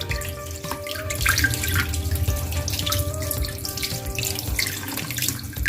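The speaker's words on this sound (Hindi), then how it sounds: "एक एक पीस पकड़ के हम इसको खुले पानी के अंदर इस तरह से सारा धो लेंगे।" Tap water runs steadily into a sink while pieces of fish are washed under it, a continuous splashing flow with small drips and shifts as each piece is turned.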